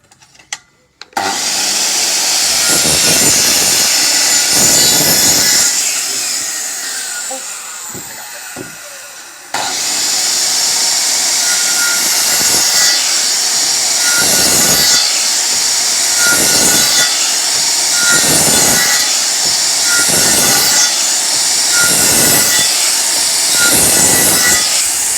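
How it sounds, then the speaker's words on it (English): Power saw set to depth cutting across wood for a garden picnic table: loud, sustained whining roar with rhythmic surges as the blade passes, a brief pause midway, then continuous cutting. "we can go across with a saw set to the depth"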